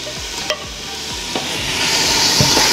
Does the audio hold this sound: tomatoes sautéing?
yes